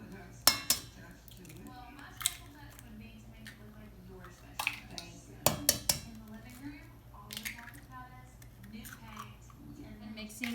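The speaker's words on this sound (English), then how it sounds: "And mixing your vanilla extract and your 2 eggs, it should look like this" Vanilla extract and two eggs are mixed into creamed sugar and butter in a bowl, with scattered clinks and taps of utensil against dish and soft squishing, faint and intermittent, with speech in the background.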